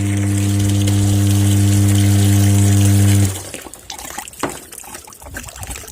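A steady mechanical pump hum as well water pours into a bucket for about three seconds, then it cuts off, leaving quieter trickling and splashing.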